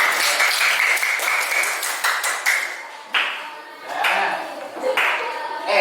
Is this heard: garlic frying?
no